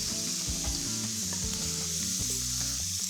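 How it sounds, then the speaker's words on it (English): Steak sizzles on a hot barbecue grill, a steady close frying hiss with faint scraping and clinks over the top, no voices. "Just run the meat over and listen for that sizzle."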